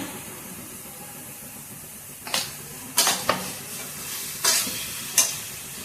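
Mint (pudina) fries in a pan for pudina rice, with a low steady sizzle broken by several short loud bursts of stirring or spattering in the second half, no talking.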